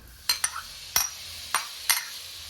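Several sharp clanks as pieces of meat drop into a hot pot, each followed by a short burst of sizzling, in an otherwise quiet kitchen.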